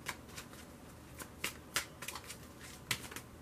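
Tarot cards are shuffled and drawn in a quiet room: crisp, close riffles and flicks in irregular bursts, some sharper slaps standing out, with no talking.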